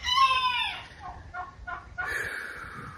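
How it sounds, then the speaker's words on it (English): Agitated chickens squawk and cluck loudly up close, a sharp rising squawk followed by several short clucks and another burst of shrill calls, with no talk. "I'm afraid all of the birds are freaking out."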